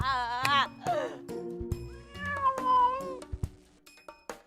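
A cat meows in a drama episode, its drawn-out, wavering cries rising and falling over about a second, followed by voices and short bursts of other sounds.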